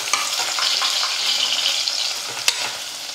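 Chopped onion frying in hot oil in a pan, a loud, steady, close sizzle with soft stirring scrapes and one sharp clack near the end, no talking.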